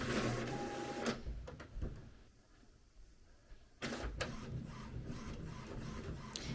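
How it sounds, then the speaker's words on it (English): A home inkjet printer works nearby, with a whirring feed, mechanical clunks and a quieter mid-stretch before the print head resumes its busy shuttling. "Sorry, my printer's printing too."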